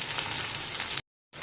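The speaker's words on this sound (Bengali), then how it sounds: "রসুনটাকে দিয়ে ভালো করে পেঁয়াজের সাথে ভেজে নেব" Garlic paste fries with onions in a pan, giving a steady close sizzle and crackle for about a second before cutting to silence, then resuming briefly.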